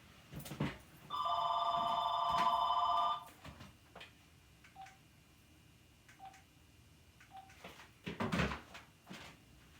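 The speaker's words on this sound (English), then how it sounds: "That home phone never rings." A home landline telephone rings once in a sustained electronic burst lasting about two seconds, followed by a few short faint beeps and scattered knocks and rustles in an otherwise quiet room.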